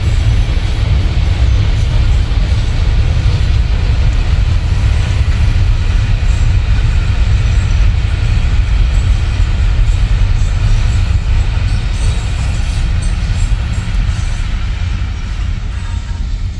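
A train rolls past a Pakistani village on a foggy winter morning, its loud, steady rumble and rattle filling the air without letting up.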